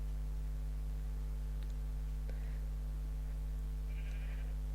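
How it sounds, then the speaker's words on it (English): Minecraft sheep bleat a few times in a farm pen, short nasal calls rising faintly over a constant low electrical hum, with no voices. "You know what these sheep are like."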